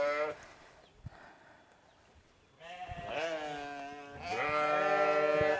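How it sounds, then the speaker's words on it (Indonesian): Goats bleating close by in a village setting, with a short call early on and then two long, wavering bleats, one after the other, while people talk around them. "banyak kambing di sini teh"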